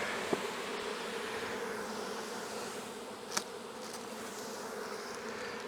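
Bees crowding a pollen patty in an open nuc hive, a steady close buzzing drone that stays level throughout, with a couple of brief sharp knocks.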